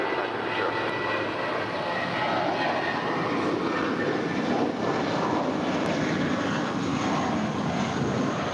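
An airliner takes off from runway 25 right at LAX, its engines giving a loud, steady broadband roar that holds strong and even from start to finish with no talk over it.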